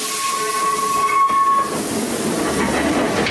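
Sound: train passing by railway in Kamakura, Japan

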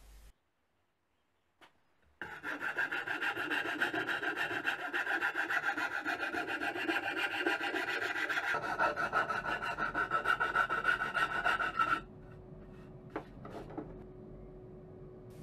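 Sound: metal file smoothing wood

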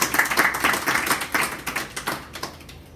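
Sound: applause for a woman in the audience

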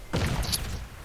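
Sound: frag grenade explosion in video game Crysis

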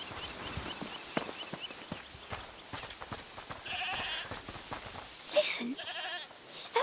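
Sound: goat bleating in A Plague Tale: Requiem video game

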